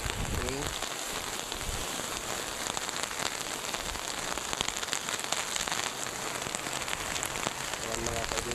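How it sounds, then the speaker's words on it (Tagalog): Heavy rain from Typhoon Kristine pours down steadily in Masbate Province, Philippines, a dense hiss of drops hammering a surface, loud and unbroken throughout. "Malakas ang ulan, malakas ang hangin."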